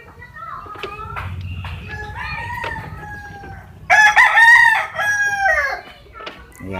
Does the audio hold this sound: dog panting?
no